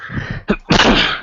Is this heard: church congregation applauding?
no